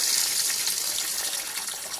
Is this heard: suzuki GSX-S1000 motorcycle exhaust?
no